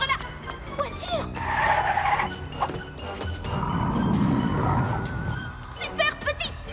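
Cartoon car tires skid and squeal as the vehicle speeds away in an animated children's show, a loud drawn-out screech with a rumbling rush of motion, among bursts of bright music and voices.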